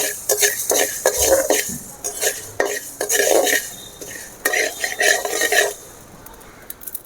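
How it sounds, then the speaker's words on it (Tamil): Mustard and fenugreek seeds fry in a hot pan, with crackling and scraping of a utensil coming in bursts, close and fairly loud, with no talk. "கடுகு வெந்தயமும் நல்லா பொரிஞ்சிடுச்சு"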